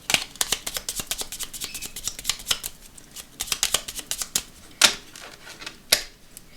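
A deck of major arcana tarot cards is shuffled and cut by hand for a Scorpio reading: quick, close riffling flutters and sharp papery slaps in uneven bursts, with no voices.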